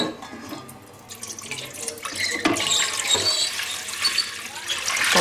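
About a litre and a half of water pours into a multicooker bowl for cooking fish with potatoes, a steady close splashing stream that grows louder as it fills.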